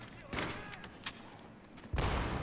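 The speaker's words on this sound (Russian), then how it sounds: "Хорошо, лови гранату" A grenade blast in the Battlefield 3 co-op shooter, on a mission in France: booming bursts of noise, one early and a heavier one near the end, with gunfire-like crackle between them.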